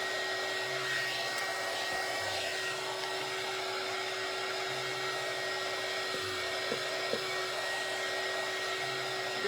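A hair dryer blows steadily to dry Mod Podge, giving a constant, fairly quiet whooshing hum with a faint low intermittent tone underneath.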